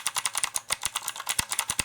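Rapid, loud clacking keystrokes on a mechanical keyboard with blue switches, a dense irregular run of sharp clicks close to the listener and alone, with no talk.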